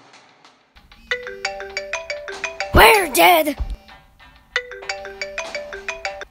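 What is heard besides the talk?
phone ringtone that won't turn off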